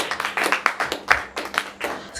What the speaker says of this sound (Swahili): Mchapie Bwana makofi.